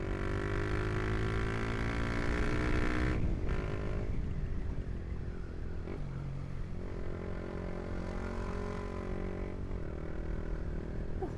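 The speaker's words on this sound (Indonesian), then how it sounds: "Ini kalau nggak pakai DB killer nih, RPM kayak gini nih, rasanya udah bacot banget." A motorcycle with a Proliner exhaust and its dB killer removed revs loudly and steadily close by, a harsh sustained engine drone that dips slightly after the first few seconds and then holds high RPM.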